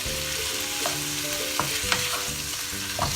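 Pork mechado ingredients sauté in a hot pan with a continuous close sizzle, broken by a few sharp scrapes and knocks as they are stirred.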